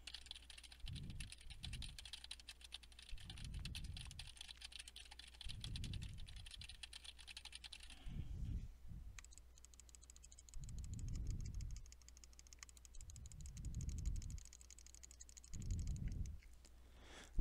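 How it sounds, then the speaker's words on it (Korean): Keyboard keys and mouse buttons pressed and clicked through a HyperX Cloud Core headset microphone, coming in repeated bursts of dense tapping and clicking with short pauses between them, close and fairly quiet over a steady low hum. "먼저 키보드와 마우스 버튼을 눌러 보도록 하겠습니다"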